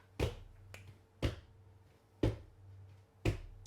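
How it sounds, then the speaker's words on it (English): A Year 3 class claps a rhythm in a primary school music lesson: four sharp, evenly spaced claps about a second apart, fairly quiet, with a faint steady hum underneath and no talking. "Remember, say it first and then clap it."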